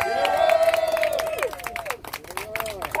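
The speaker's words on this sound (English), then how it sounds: "So please put your hands together for Ms." An outdoor rally crowd outside the DC Correctional Facility breaks into applause and cheering. Dense rapid clapping mixes with whoops and excited voices throughout.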